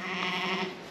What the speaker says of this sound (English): Sheep with the lambs.